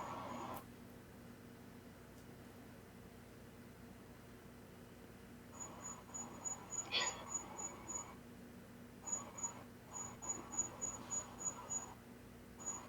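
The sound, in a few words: crickets chirping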